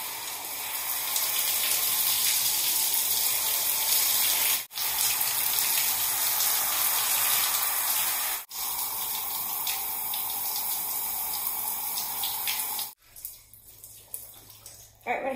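Hair rinsed under a running tap, a loud continuous rush of water with a couple of brief breaks, easing off toward the end.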